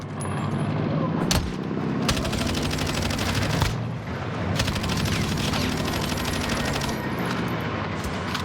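Rapid automatic gunfire in Call of Duty Warzone, dense bursts of shots rattling almost continuously with brief gaps, loud and close throughout.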